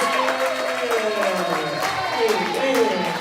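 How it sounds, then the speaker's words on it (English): A congregation claps along during Sunday morning worship, steady hand claps mixed into a busy crowd swell with voices and music layered over the top. "Let's just stay on that hand clap."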